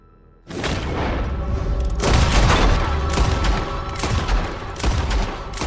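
Revolver shots in a Red Dead game duel: after a quiet start, loud booming reports break out, several heavy blasts spaced across a dense, roaring, echoing backdrop.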